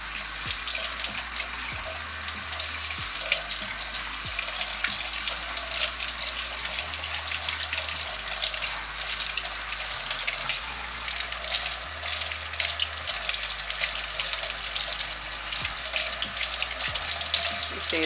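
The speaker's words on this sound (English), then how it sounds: "I guess she decided to stick her whole head under the faucet to make it easier." Faucet water runs steadily and close up as a clay face mask is rinsed off under it, a constant broadband gush with small splashing variations and no talk throughout.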